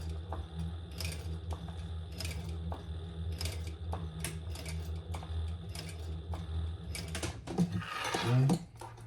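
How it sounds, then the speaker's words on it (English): Needle stitching a single row along an adjustable dog collar near its D-ring, heard as a steady train of quick mechanical clicks and taps over a low hum, close and moderately loud, rising into a brief louder burst near the end. "I'm going to stitch as close as I can get with my needle up."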